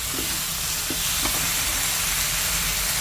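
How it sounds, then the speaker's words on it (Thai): Long beans stir-fried in a hot pan with crispy fried catfish and chilli, a steady loud sizzle throughout with a few soft scrapes of a spatula. "แล้วก็เอาถั่วฝักยาวลงไปผัด"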